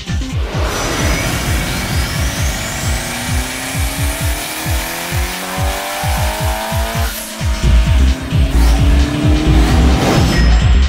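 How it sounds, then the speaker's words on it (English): A 2ZZ turbo-powered Toyota MR2 time attack car laps a track, its engine rising and falling through rapid gear changes with tire squeal and a loud close pass, no talk. "Let's check out the 2ZZ turbo-powered Track King Racing Time Attack machine."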